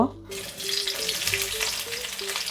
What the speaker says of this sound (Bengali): তেল গরম হয়ে গিয়েছে, দেব টুকরো টুকরো যে পেঁয়াজগুলো করেছিলাম এগুলো দিয়ে দেব।